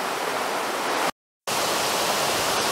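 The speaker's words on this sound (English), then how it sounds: "this is the biggest waterfall here in this park" Large waterfall in a park in Chechnya, a loud, dense, continuous roar of falling water close by, broken only by a short gap of silence midway.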